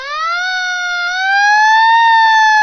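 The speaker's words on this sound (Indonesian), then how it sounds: "nah itu untuk mobil pemadam kebakaran," Fire engine siren: a loud, sustained tonal wail that slowly climbs in pitch and holds steady, close and alone without any talking.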